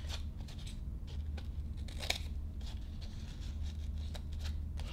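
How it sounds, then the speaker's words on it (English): Sharp scissors snip through layered double-sided crepe paper for wreath petals, a series of crisp close cuts at an irregular rhythm, one louder snip standing out. "if you have a good pair of scissors, you should easily be able to cut through three of these double-sided"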